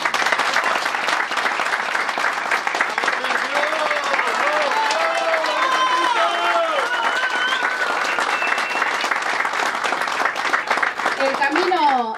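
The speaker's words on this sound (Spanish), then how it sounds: "Le damos un aplauso." A crowd at a campaign-closing rally in Colonia Barge applauds loudly and steadily for about twelve seconds, with voices calling out and talking over the clapping.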